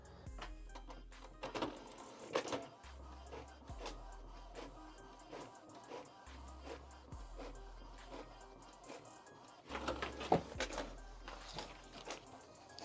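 An Epson EcoTank L8050 inkjet printer runs a black-and-white copy job, giving a quiet steady mechanical whir with repeated soft clicks and shuttling bursts, plus several low motor hums that start and stop in turn.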